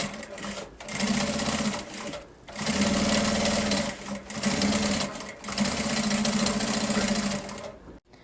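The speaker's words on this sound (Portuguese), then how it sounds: "vou passar uma costurinha aqui, ó, para prender tecido principal, forro e zíper" A domestic sewing machine runs in several steady bursts, stitching main fabric, lining and a zipper together for a small zippered toiletry bag, with brief pauses between runs; close and loud, no talking.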